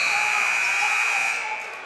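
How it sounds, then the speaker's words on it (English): A loud, steady basketball game clock buzzer sounds at a boys' high school basketball game, holding a single flat tone before tapering off, with faint voices beneath it. "He got that shot off at the buzzer."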